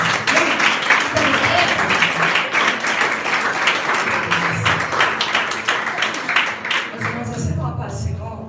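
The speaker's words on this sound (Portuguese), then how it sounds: "Vamos dar uma salva de palmas para você." A crowd at a church conference claps in sustained, dense applause for several seconds, fading out as voices begin talking near the end.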